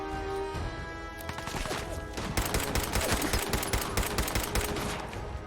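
Dense, rapid enemy gunfire in Fallout 4 crackles almost nonstop, with bursts and overlapping shots growing louder and busier about halfway through, over a steady tonal background.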